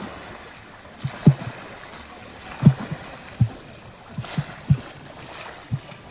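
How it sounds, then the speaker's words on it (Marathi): Fishermen beating the water surface to drive fish into nets, heard as a series of sharp, hollow slaps and splashes at irregular intervals over light wind and water noise outdoors. "पाणी वाजवतोय."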